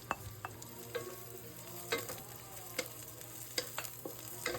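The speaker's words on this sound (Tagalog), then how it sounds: "Halu-haluin lang natin ng mabuti hanggang maluto yung carrots." Carrots stir-fried in a pan for Filipino-style mi goreng, a soft continuous sizzle with sharp spatula scrapes and taps every second or so, close and fairly quiet.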